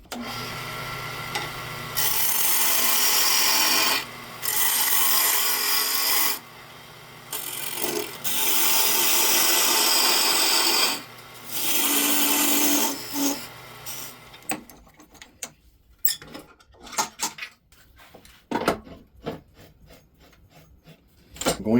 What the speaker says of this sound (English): I'm going to start making the tenons on both sides.